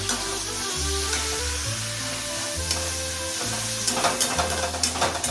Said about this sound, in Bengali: তাহলে এখন পেঁয়াজ দেব, পেঁয়াজ দিচ্ছি। পেঁয়াজ দিয়ে নাড়াচাড়া করে